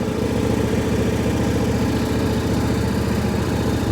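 A tractor engine idles after a warm start, a loud, steady, close-up chugging drone with an even low pulse and no pauses; the engine is said to sound weak.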